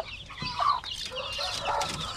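Native chicks being fed make soft clucking and peeping calls, close and continuous over a brief stretch, with a couple of slightly louder notes.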